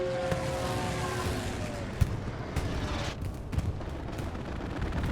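In the Hell Let Loose battlefield game on the Carentan map, a Stuka makes a strafing run over a large 49-versus-49 fight, bringing rapid gunfire over a dense, rumbling roar, with sharp reports standing out.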